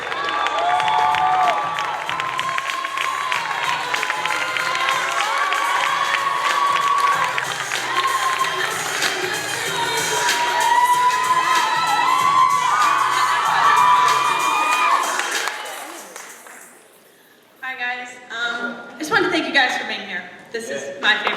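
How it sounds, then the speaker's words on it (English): Loud audience cheering, whooping and applause for a poet at a youth poetry slam finals, sustained for about fifteen seconds before fading out, followed by a lone voice speaking. "Let's keep the applause going for the poet from Lawrence Free State"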